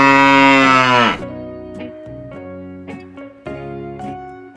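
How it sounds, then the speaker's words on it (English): A cow lets out one long, deep, loud moo that stops abruptly, leaving background music playing alone. "cow."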